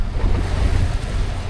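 A boat runs out through a shallow North Carolina inlet over the waves, giving a loud, close rumble of wind and rushing surf that continues throughout with no speech.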